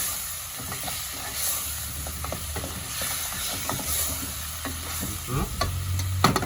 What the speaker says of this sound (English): I will stir and cover.